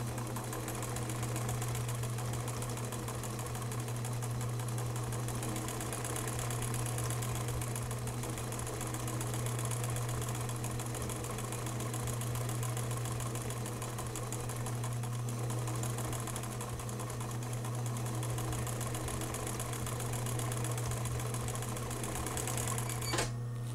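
A sewing machine stitches yarn onto fabric, a steady fast mechanical whir with a constant low hum, running quietly and evenly without pause.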